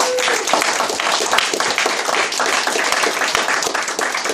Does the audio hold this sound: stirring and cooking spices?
no